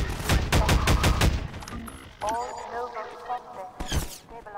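Half-Life 2 game audio carries a rapid burst of turret gunfire up front, followed by mechanical game sounds and scattered effects, with someone talking over it.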